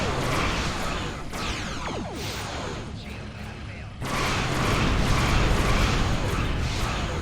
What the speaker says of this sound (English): Fire at will, big torpedo, decloak, and let him have it.